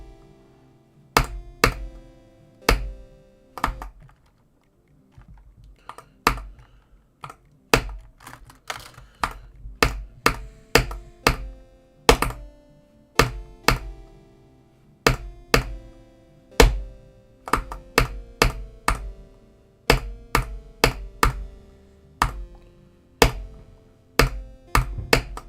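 Sharp clicks on a mouse or keyboard while playing a hard Geometry Dash demon level, crisp taps in irregular bursts and runs with short pauses, close and clear, with no talking.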